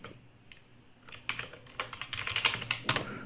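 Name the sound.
typing an email address on a computer keyboard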